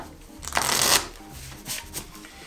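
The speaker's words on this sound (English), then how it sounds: "How many more shuffles?" Playing cards being shuffled at a tabletop during a choose-your-own-adventure game book session, with a sharp riffle burst followed by softer card handling and a quieter second riffle, close and clear.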